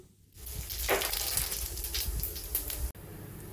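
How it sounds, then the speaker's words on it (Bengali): Cumin seeds hitting hot oil in a wok, a steady close sizzle and crackle that swells after a quiet start and continues at moderate level, briefly dipping near the end. "তেলের মধ্যে দিয়ে দেবো আমি জিরে ফোড়ন।"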